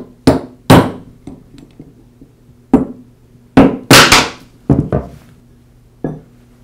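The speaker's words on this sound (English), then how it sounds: "I'll place the socket on top of that inner race and then use my mallet to tap the bearing out of" A mallet strikes a socket set on the inner race to knock a worn bearing out of a Porter Cable 690 router motor housing: about nine sharp, loud metallic taps, spaced irregularly, with a faint hum between them.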